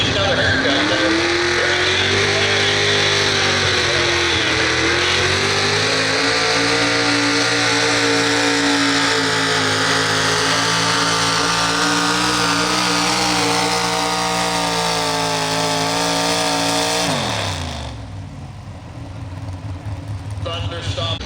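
A V8-powered pulling tractor roars at full throttle down the track at a county fair truck and tractor pull in Old Washington, Ohio, loud and sustained with rising engine pitch, then cutting back sharply near the end.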